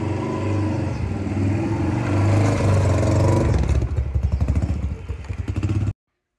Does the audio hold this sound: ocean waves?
no